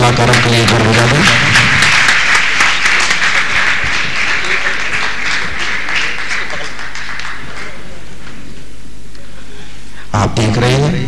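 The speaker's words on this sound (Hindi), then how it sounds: "जोरदार ताली हमारे कलाकारों के लिए जोर बजा दें" Theatre audience clapping for the actors at a Hindi stage play, a broad wash of applause that swells loudly, then thins out and fades, with a voice speaking at the start and again at the end.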